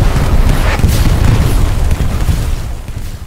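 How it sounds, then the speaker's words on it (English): A loud, boomy grenade blast from the World War II shooter Hell Let Loose, a heavy low rumble that rolls on and slowly fades over a few seconds with no talk over it. "Is that a grenade?"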